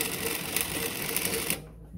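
NewTech GC-8B industrial sewing machine running a short stitching burst, a steady dense mechanical whir that stops abruptly near the end, leaving quiet room tone.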